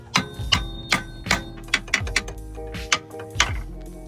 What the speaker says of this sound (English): I'll beat it in with a hammer at the top